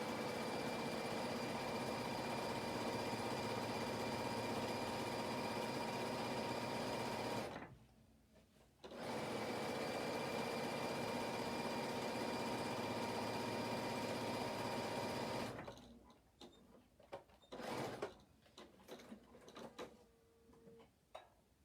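Stitching a seam on a denim skirt, a sewing machine hums in a long steady run, stops briefly, runs again, then gives a few short stuttering bursts near the end.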